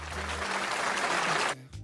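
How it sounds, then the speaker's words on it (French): A crowd at a 2026 New Year's greetings ceremony gives public service workers a burst of applause, loud and dense, that cuts off abruptly near the end. "Je voudrais un tonnerre d'applaudissements pour les agents du service public"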